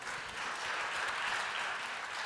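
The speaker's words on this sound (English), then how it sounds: "Give him a round of applause" Conference attendees applaud to welcome a speaker at an innovation event in Berlin, a continuous, fairly faint wash of clapping from a seated audience, steady throughout with no voices.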